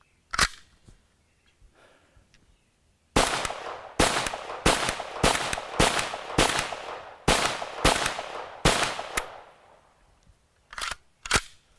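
A Pioneer Arms PPS43C fires a sharp burst of about ten rapid, loud shots, then two more after a pause, with a few faint clicks and handling noises before the firing starts.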